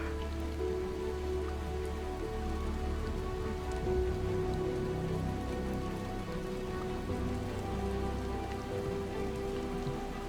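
Rain falls over a swampy area with a wooden pathway in Skyrim, a soft continuous patter of drops that stays steady and fairly quiet.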